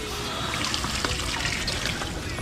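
Water trickling from a newly bored Jetmatic hand pump, a steady close splashing dribble with no voices.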